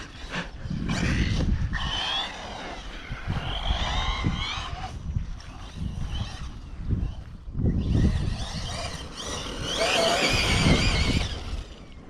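A Hobao Hyper VS2e RC car with a Hobbywing XR8 Pro 4268 2200kv sensored motor drifts outdoors, its electric motor whining and tires scrubbing in loud repeated surges and bursts close by, without talk.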